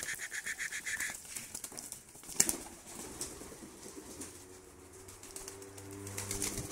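Evening feeding of pigeons: soft cooing and scattered wing flaps, with a sharp flutter burst midway and low murmuring coos toward the end, fairly faint and close.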